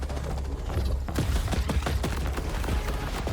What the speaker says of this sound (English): This is more like a shotgun, actually.